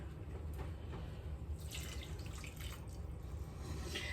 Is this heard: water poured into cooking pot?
yes